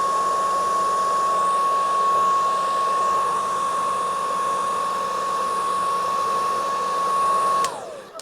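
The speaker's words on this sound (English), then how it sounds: "I am going to put my blow dryer on, so guys, bear with me because we are going to be going from quiet to loud." A blow dryer runs continuously during a hair touch-up, a loud, steady whooshing roar with a constant motor whine, close to the microphone, ending abruptly as it shuts off.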